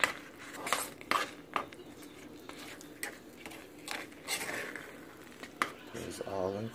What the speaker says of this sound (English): I added a butter and the sugar, and I'm about to stir it in